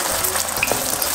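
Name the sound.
food frying in hot oil in a pan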